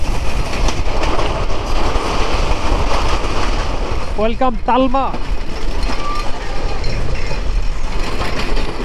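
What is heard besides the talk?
Sundarban Express train leaving Talma railway station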